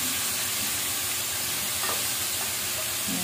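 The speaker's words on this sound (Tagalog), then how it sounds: "Ako, yung style namin, isasangkot siya muna, then gisa." Food sizzles and fries steadily in a hot pan during a Filipino-style sauté, a close, continuous hiss with faint stirring scrapes.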